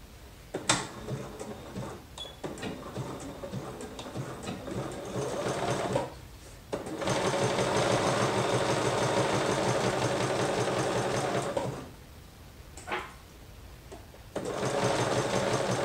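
A sewing machine stitches a liquid lamé shirt, running in long steady whirring bursts with brief pauses between seams, loud and close throughout.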